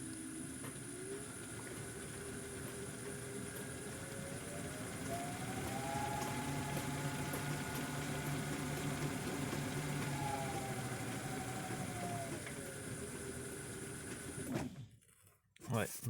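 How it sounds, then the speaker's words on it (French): A steady motor hum fills the clip, its pitch rising gradually, holding high, then dropping back before it cuts off near the end. "Donc je l'ai branché sur un moteur électrique."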